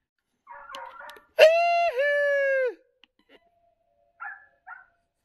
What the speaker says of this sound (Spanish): Oigan mis perras.